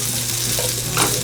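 Chicken sizzles in butter in a pan kept on low heat, a steady close frying hiss with light stirring noises and no voices.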